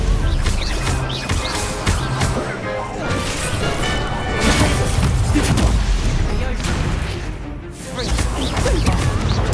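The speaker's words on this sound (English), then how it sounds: "There goes my Stupefy!" Spell-casting combat in Hogwarts Legacy, with a Stupefy spell among the magic: a dense, continuous barrage of crashes, whacks and thuds, loud and close, with voices mixed into the fray.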